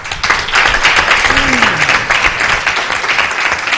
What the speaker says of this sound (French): Je pense qu'on peut les applaudir évidemment.